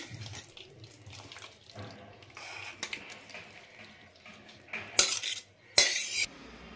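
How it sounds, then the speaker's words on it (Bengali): A ladle scraping and clinking against a pan while jackfruit and prawn curry is scooped into a bowl, soft intermittent scrapes with a couple of sharper, brighter scrapes near the end. "তরকারিটা একটা বাটিতে আমি আজড়ে নিচ্ছি"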